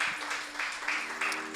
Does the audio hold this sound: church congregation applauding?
yes